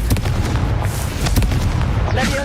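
A Confringo fire spell erupts in Hogwarts Legacy, a loud sustained booming blast with crackling bursts over roughly two and a half seconds, dense and close throughout.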